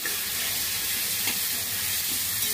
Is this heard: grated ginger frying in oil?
yes